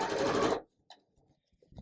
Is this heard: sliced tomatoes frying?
no